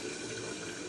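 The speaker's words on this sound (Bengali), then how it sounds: "মিক্সি বাটি ধোয়া জলটা দিয়ে দেবো, কষে নিই।" Rinse water from a mixer jar pours into a cooking pan in a brief, steady splashing gush, close and uninterrupted.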